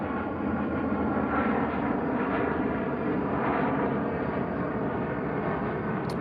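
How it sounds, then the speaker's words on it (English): Loud, steady roar of an airplane passing low on its approach to land at a nearby airport, a continuous broadband rumble filling the whole stretch with no talk over it. "That plane is kind of loud. It's about to land at the airport nearby."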